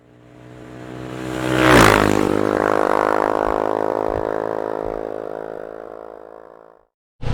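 A 2022 Kawasaki Z900RS inline-four pulls away, its engine note swelling to a strong revving whine and then slowly fading as the bike rides off, loud at first, with a sharp noise at the very end.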